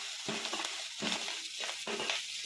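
Chillies, cumin, asafoetida, curry leaves, turmeric and ginger sauté in hot oil for sabudana khichdi, with a soft, continuous sizzle and a spoon stirring the pan in a steady rhythm, close up with no talking.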